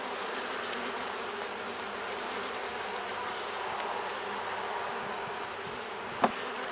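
A dense, steady hum of many honeybees buzzing up close inside an opened hive, continuous throughout, with one brief tap or knock near the end.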